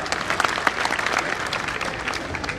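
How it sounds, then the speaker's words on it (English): Audience applause at a speech event on minority education and interfaith dialogue, a close and fairly loud burst of hand clapping with sharp individual claps standing out in the steady wash. "Give him a big round of applause."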